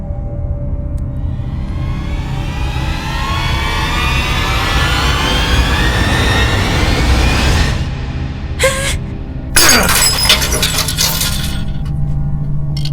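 Plates fall and break in a kitchen: a steady broad hiss, then a couple of sharp crashing bursts near the end, loud and close, with no talking.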